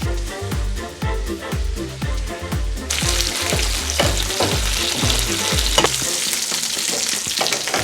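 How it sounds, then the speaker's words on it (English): Loud, steady sizzling of sous-vide chicken thighs frying in a pan as the juices turn to glaze, with scraping and stirring throughout and no talking. "all the juice in the frying pan is now starting to turn into a delicious glaze"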